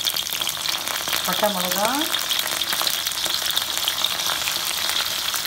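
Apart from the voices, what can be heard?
onions and spices frying in a pan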